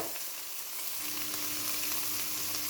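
Meatballs brown in a frying pan with a soft, steady sizzle and fine crackle, close but fairly quiet, with no voices.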